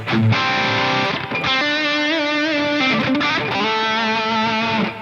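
Distorted electric guitar through a JCM800 amp plugin with EQ trimming the highs and lows, producing a warmer, smoother crunch; loud held chords change a few times over several seconds, with no voices.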